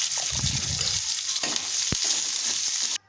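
Onions sizzle and crackle steadily in hot oil, with a stirring scrape and a sharp tap partway through.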